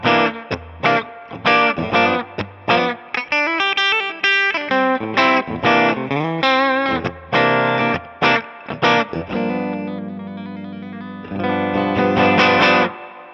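A PRS Private Stock Paul's 85 electric guitar played through its bridge pickup with heavy distortion and all controls on full: a run of loud, punchy chords and single-note lines with sustained ringing notes, played alone with no talking.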